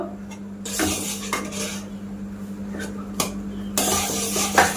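Clattering metal in a pan as bread crumbs are stirred into boiling sugar syrup for a watermelon-style sweet, with scattered clinks and scrapes of a utensil against the pan, close and moderately loud, no talking.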